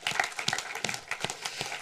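Audience at a German film screening event gives a modest round of applause, a steady patter of many hands clapping at moderate volume without talk.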